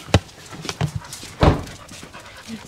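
Dogs pant in a few short, breathy bursts close by, with brief quiet gaps between them, on a farm where sheep dogs are kept.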